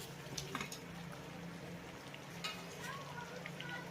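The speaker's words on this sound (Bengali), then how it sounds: "এবার এই কষিয়ে নেওয়া মশলার ভিতরে আমি অ্যাড করব ভেজে রাখা আলুগুলো" Fried potatoes go into a cooked spice paste in a pan, giving a low, steady sizzle with a few soft stirring clinks, faint and close.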